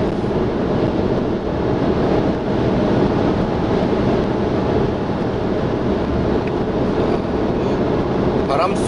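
Steady, loud broadband roar of wind rushing past a 2016 Mercedes-Benz C200 Coupe at high speed in Sport Plus mode, constant throughout with a low rumble of road noise underneath.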